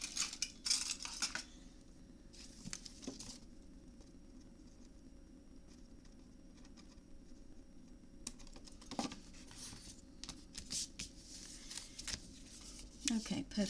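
Small scissors snip through paper during a paper-craft memory book project, giving a few short crisp cuts scattered across the clip alongside light tapping and handling noises and a quiet voice talking at times.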